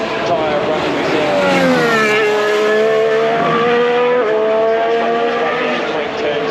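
Formula 1 cars scream past Turn 1 at the Australian Grand Prix practice session, engine notes rising and falling as they brake and downshift, heard from the spectator area while a commentator talks over the track noise.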